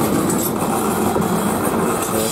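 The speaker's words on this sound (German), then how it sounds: "hier fliegen wieder ICE1, ICE Kreilsheim" An ICE high-speed train passes nearby, a steady loud rushing rumble with faint rail clatter throughout the short stretch, no voices.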